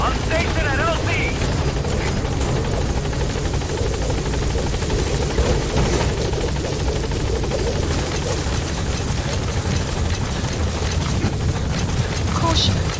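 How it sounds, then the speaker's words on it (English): A support helicopter in the video game Metal Gear Solid V thunders with a loud, continuous rotor roar and engine rumble, close and dominant throughout, with scattered crackling gunfire and rain underneath. "Support helicopter has arrived."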